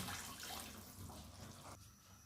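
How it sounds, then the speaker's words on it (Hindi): Water is poured steadily into a pot of rice for matar pulao, a continuous close splashing rush for about two seconds that softens toward the end. "मैं इसमें अब पानी शामिल करने लगी हूँ।"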